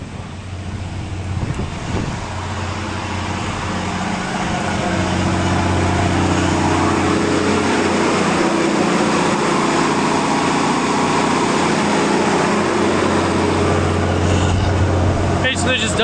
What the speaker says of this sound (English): This is our single phase generator going here.